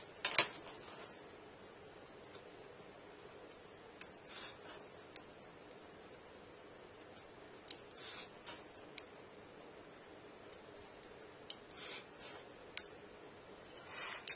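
A craft knife scores and cuts along a ruler while building a model airport jetway, giving faint, close, scratchy strokes and clicks in short irregular bursts separated by quiet pauses.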